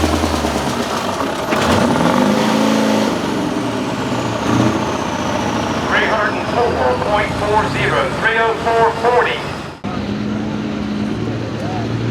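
A semi truck's diesel engine revs at a truck gathering outside Millers Tavern, a loud, heavy roar swelling and holding across the clip with a brief drop near the end, while voices talk nearby.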